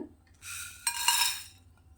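Coriander seeds, cumin, pepper, cinnamon, cloves, fennel, star anise and dried Kashmiri chillies dry roasted in a pan without oil for mutton gravy, with a short metallic scraping and rattle of spices being stirred, close and brief.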